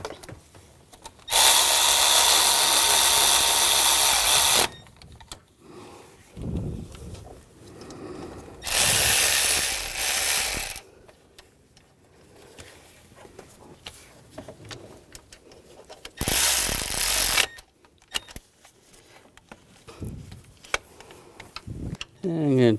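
A ratchet tightens the belt tensioner bolts on a 2000-2006 BMW X5 3.0L inline-six in three loud, rapid clicking bursts of a few seconds each, separated by quieter handling noises and someone talking.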